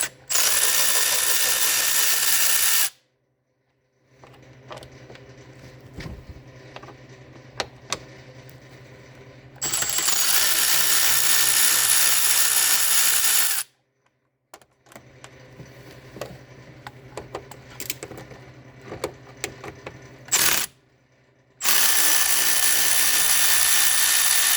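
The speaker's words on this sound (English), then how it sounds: "I'm gonna remove these rear torques here" A power tool loudly whirs in several long bursts removing rear Torx bolts from the side skirt of an Audi B5 S4, with quieter clicks and handling sounds between bursts.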